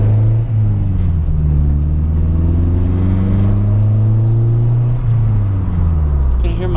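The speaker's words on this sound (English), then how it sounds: "See how it sounds in VTEC though." A Honda Integra engine revs in VTEC with a rising, droning exhaust note through a newly installed muffler that climbs in pitch, drops briefly, then climbs again, close and loud.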